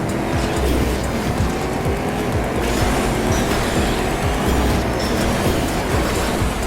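Race cars in the TrackMania Turbo video game: a steady, loud engine roar with tyre squeal and skidding running throughout, dense and continuous, with no voices.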